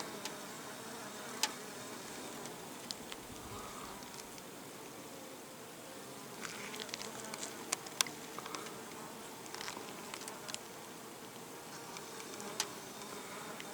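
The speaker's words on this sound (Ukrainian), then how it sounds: "В метрі від вулика як шниряють земляні оси." Ground wasps darting about a meter from a beehive in an apiary give a faint, steady insect buzz with scattered brief ticks and taps, heard alone without talk.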